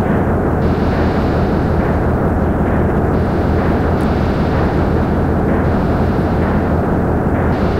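A meteorite crashing to the ground in the retro role-playing game Final Fantasy V, heard as a dense, loud, unbroken roaring rumble that churns steadily from start to finish without pause or speech.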